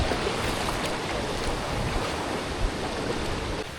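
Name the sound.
waterfall flowing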